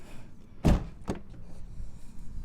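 A Volkswagen Polo car door is shut with a firm, close thud, followed by a lighter second knock and low ambient noise.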